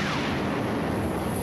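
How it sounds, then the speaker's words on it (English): Enemy artillery fire in a desert ground war, a loud, dense rumbling roar of distant guns and blasts filling the whole stretch without a break. "Most feared is enemy artillery."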